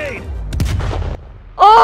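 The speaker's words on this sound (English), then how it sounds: "Grenade!" A grenade goes off in Call of Duty: Black Ops Cold War, a close, heavy blast with a short rumbling tail, followed by a voice breaking in right after.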